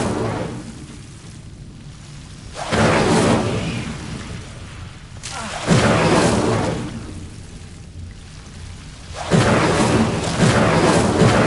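An Incendio fire spell cast in Hogwarts Legacy, three loud whooshing bursts of flame that each swell and fade, separated by short quieter stretches, with no talk.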